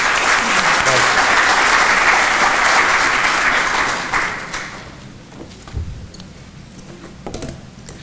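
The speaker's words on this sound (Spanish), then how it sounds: "Recibamos con un voto de aplausos al ingeniero Twedl." An audience at a mining-sector evening talk claps to welcome an engineer to the podium, a loud sustained round that tapers off after about four seconds into scattered claps and faint room noise.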